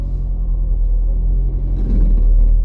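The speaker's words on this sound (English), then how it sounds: "Every time that I go forward or back, for a split second, I hear a little bit of grind" A car making a brief grinding noise as it is shifted into forward or reverse, a low rumbling engine drone with a short rougher swell near the end, heard close with no talking.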